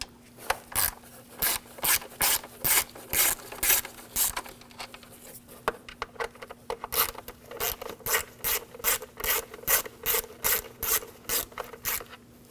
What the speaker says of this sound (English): I'm going to take these screws out for the cover. Use a 5mm hex socket.